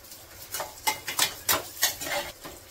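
Dry fruits such as cashews, almonds and raisins are stirred and roasted in a pan over low gas, giving a series of short scraping strokes in an irregular rhythm, close and alone.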